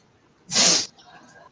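A single sharp sneeze bursts out close by, loud and hissy for about half a second, followed by a faint breathy tail and quiet room tone.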